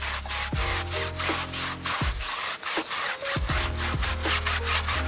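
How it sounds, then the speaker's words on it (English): A stiff brush scrubbing tyre cleaner into a car tyre on a 9-year-old Ford Focus, quick repeated rasping strokes in a steady back-and-forth rhythm, close and fairly loud, no voices. "we'll use a Icam brush to work it in and try and lift out all the dirt and all the grime"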